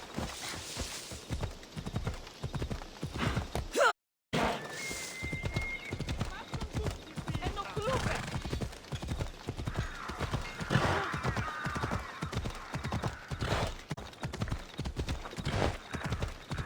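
A horse gallops hard in the ancient Greek action game Assassin's Creed Odyssey, its steady, close clip-clop rhythm running almost throughout, with a brief neigh and a short silent break near the start while people talk over it.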